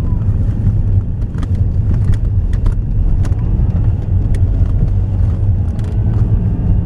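A 2006 Saab 9-3 1.9 TiD diesel on the road, heard from inside as a steady low engine and road rumble with wind noise and scattered small clicks and taps.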